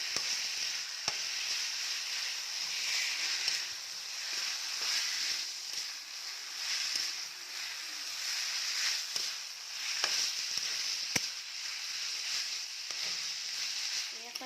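A steady, close sizzle of vegetables for veg chowmein frying in a pan runs throughout, with occasional stirring scrapes and clicks breaking through the hiss.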